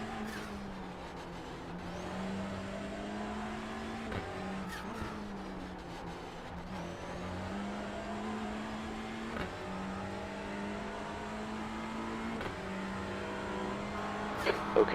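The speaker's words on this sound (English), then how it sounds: "I hear a roar of a Mustang behind" Ford Mustang race car engine in iRacing's IMSA Michelin Pilot Challenge, a steady droning roar with shifting pitch held throughout, loud and continuous with faint background race noise.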